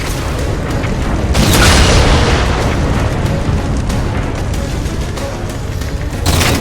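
In the Halo 4 video game, a railgun shoots down Phantom dropships, with continuous heavy booming blasts and explosive rumble, a big burst near the start and another swell at the end over dense battle noise.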